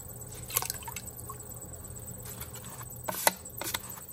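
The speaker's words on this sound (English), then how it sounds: "Now I'm going to get the water out" Water is sponged or squeezed out of a freshly wheel-thrown clay bowl, making faint wet squishing and dripping sounds in a few soft bursts over a quiet background.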